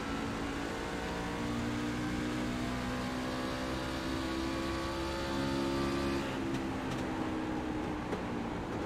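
A Camping World Truck Series racing truck engine at Iowa holds a steady loud drone, then drops in pitch and eases as the driver lifts off the throttle, heard close from on board with no talk.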